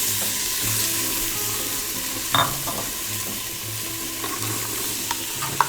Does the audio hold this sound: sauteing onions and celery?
yes